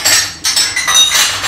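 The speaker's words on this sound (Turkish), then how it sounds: "Şimdi de bulaşıkları yerleştireyim." Dishes, cutlery and plates clatter and clink close up as they are stacked into a full dishwasher in a home kitchen, a steady busy rattle of clanking pieces with no voices.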